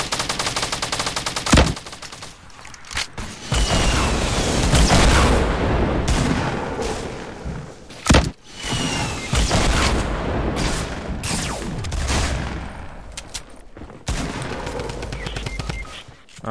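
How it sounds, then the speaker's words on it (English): Rapid gunfire bursts and sharp single shots in a Fortnite squads match crackle loudly and close, with brief pauses and a few heavy booming hits, no talking over it. "where do you think they're shooting from?"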